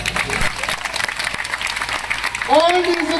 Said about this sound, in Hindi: ताली बजा सब कुछ।